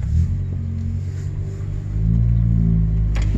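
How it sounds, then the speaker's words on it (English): A 2013 Nissan Altima with its muffler removed roars and drones steadily at close range while accelerating, rising in intensity partway through with a harsh, unmuffled rumble. "you don't hear the muffler. You only hear the engine screaming"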